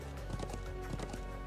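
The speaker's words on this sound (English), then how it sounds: "turns out the horse is leading us toward that shrine" Rhythmic clip-clop of a horse's hooves running in a video game, quick steady beats over a constant background hum.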